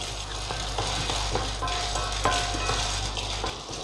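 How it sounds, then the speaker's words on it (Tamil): Black chickpeas dry roasting in a pan for a homemade health mix, giving a steady close sizzle with scattered light rattles and scrapes as the pulses are stirred, with no speech. "கருப்பு கொண்டக்கடலை 1/2 கப் எடுத்துருக்கேன், அதையும் இது கூட ஆட் பண்ணிக்கலாம். இதுவும் நல்லா வறுபடுற அளவுக்கு வறுத்துக்கலாம்."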